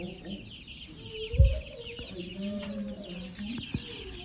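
Young RIR chicks about 24 days old cluck softly while being fed grain, with soft chirping calls throughout and a brief thump partway through.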